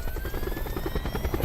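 Helicopter in the Call of Duty Blackout video game, a steady loud rotor thrum with rhythmic low pulses and a whining turbine tone held throughout, with no talk.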